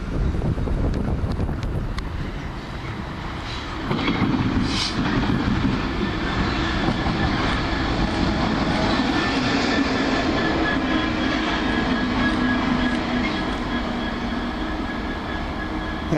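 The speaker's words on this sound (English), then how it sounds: "I should imagine it's broken down or something." A train passes on the railway at Leicester, a loud continuous rumble and rolling hum of wagons that swells partway through and holds steady, with no voices.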